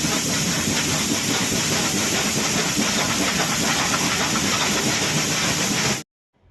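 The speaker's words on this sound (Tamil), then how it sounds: "இந்த மாதிரி தான் ட்ரெயின்ல சவுண்டு கேட்கும்." Steady, loud hissing rumble of the Mettupalayam–Ooty toy train engine running continuously, then an abrupt cut to near silence at the end.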